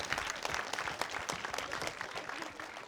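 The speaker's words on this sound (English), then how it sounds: "let's give Mr. Addison a round of applause" Audience at a school quiz show event applauding Mr. Addison, a dense patter of many hands clapping at moderate distance, steady throughout with a slight fade toward the end and no talk.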